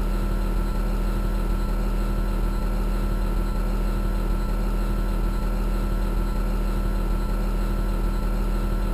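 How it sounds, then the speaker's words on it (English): Steady diesel engine drone from a John Deere 470G excavator as the operator adjusts engine speed with the RPM dial, a constant near rumble with a regular low thump and no talk. "It allows the operator to adjust the engine speed."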